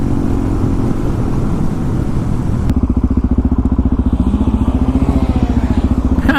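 Motorcycle being ridden, either a Yamaha FZ-09 or a Suzuki DR-Z400, with a steady engine drone that turns into a loud, rapid pulsing exhaust beat partway through as the throttle opens, accompanied by wind rumble.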